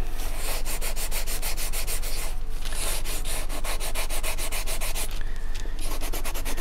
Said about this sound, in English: I will come back and I'm gonna sand this.